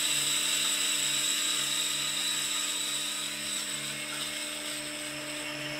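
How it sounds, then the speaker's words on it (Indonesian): An electric coffee grinder works through 18.4 grams of beans with a steady, fairly loud whine that holds a constant pitch and fades slightly toward the end. "Kita coba giling"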